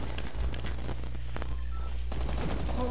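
Rapid video game gunfire, a bubble gun shooting, crackles steadily throughout under dense game sound, with a few sharper bursts and no clear talk.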